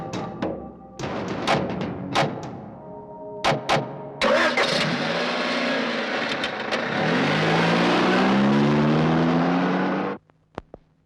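Car engine cranks and starts after several thuds and knocks, then revs and settles into a steady running note as the vehicle reverses, loud and close, cutting off abruptly near the end.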